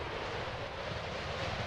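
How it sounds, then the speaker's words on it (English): Game waterfall in Final Fantasy IX, a steady broadband rush of falling water that stays even and moderately loud throughout, with no voices over it. "Awesome looking waterfall."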